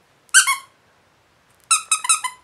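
A squeaky dog toy gives one sharp squeak, then after a pause a quick cluster of three or four squeaks, loud and close against silence.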